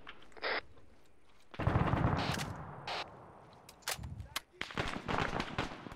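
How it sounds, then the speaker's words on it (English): Arma 3 firefight with rifle shots cracking at mixed distances, a burst of heavy fire in the middle and scattered single reports after, under a low rumble of battle. "They're shooting from the northwest as well."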